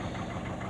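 A Peugeot 206 engine idling while it warms up, a steady dense rumble with even, continuous vibration close by and no other sounds.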